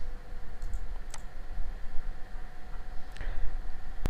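Computer mouse clicks while setting up a WooCommerce online store in WordPress: a few sharp, isolated clicks spaced across several seconds over a steady low background hiss, with no talking.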